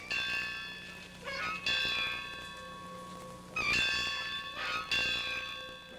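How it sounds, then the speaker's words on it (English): A victory bell tolls with a ringing metallic tone, struck several times at a slow, spaced rhythm, each strike ringing out and lingering before the next. "That is the victory bell, and it's tolled at the exact moment"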